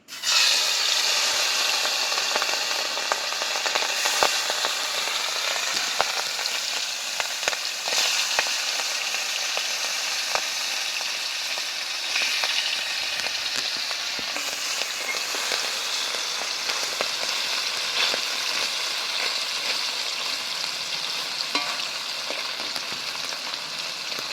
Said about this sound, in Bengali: এবার মাছের পিসগুলো একে একে আমি তেলের মধ্যে দিয়ে দেবো।